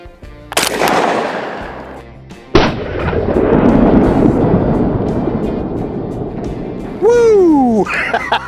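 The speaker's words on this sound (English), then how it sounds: "for our soda bottle explosions here, Greg opted for slugs. I'm opting for a couple of buckshot" IWI Tavor TS-12 shotgun firing buckshot at soda bottles outdoors, two loud close blasts a couple of seconds apart, each followed by a long rumbling decay, then a short whistle or shout near the end.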